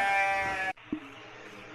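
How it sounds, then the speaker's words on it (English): A Minecraft sheep lets out one loud, close, nasal bleat, followed by a faint short blip and quiet game background. "Dude, there's so many freaking sheep."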